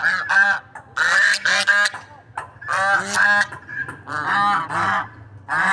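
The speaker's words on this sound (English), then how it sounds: "swans are making a loud noises." Big swans honk loudly in repeated bursts, several calls overlapping close by with short pauses between groups.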